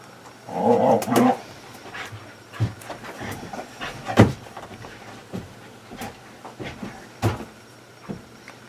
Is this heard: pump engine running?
no